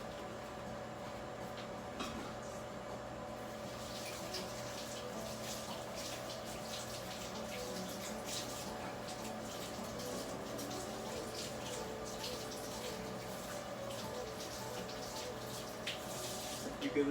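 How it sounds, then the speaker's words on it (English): A kitchen tap runs steadily during hand washing, a soft, even stream of water with faint splashing and no talking, holding the same level throughout. "So excuse me for one moment while I wash my hands."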